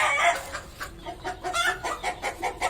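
Many chickens cluck and squawk at once, a busy overlapping chorus of repeated calls, close by and steady throughout.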